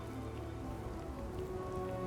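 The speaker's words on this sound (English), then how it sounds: "Why are you out in the rain?" Steady rain falls in the sci-fi video game Starfield, a continuous even patter that fills the whole stretch alongside soft sustained tonal background sounds, with no one talking.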